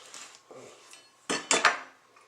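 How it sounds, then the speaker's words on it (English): Knife chopping jalapeño chillies on a board, a few sharp clacking strikes clustered close together after quieter handling, near and fairly quiet overall. "Here we go, just chopping a few up here."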